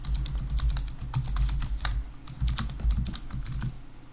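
Steady typing on a computer keyboard, a dense run of close, crisp key clicks with irregular rhythm that carries on without pause while software is set up.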